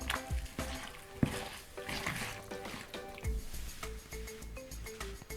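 Hands squish and knead beef in a brown sugar marinade for a stir-fry, producing close, wet, irregular squelching sounds with a few sharper slaps.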